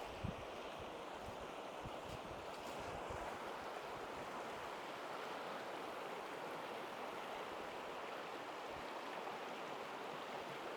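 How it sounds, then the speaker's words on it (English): Steady rushing water of Big Reed Island Creek runs throughout, a broad continuous wash like a stream flowing over rocks, fairly close and with no voices. "one of my favorite features of this property is Big Reed Island Creek"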